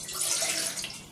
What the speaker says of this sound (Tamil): 2 டம்ளர் தண்ணி ஊற்றுங்க